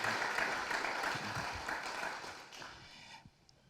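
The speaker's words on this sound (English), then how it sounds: "If we give him a round of applause." Applause from an audience at a breeders' talk welcomes a guest speaker to the stage, a steady, fairly faint spread of clapping that thins and fades out toward the end.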